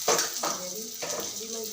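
Whole spices drop into hot oil in a pan, with a few clinks of a spoon against metal followed by a soft sizzle, while a person talks over it.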